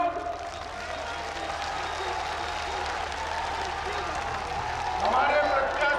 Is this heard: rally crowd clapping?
yes